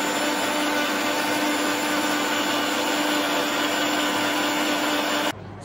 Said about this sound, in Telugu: ఇప్పుడు దాన్ని మిక్సీ వాడదాం